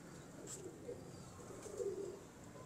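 A slim racing pigeon coos faintly a few times, soft and low at close range, with light chirps and quiet room background and no talk.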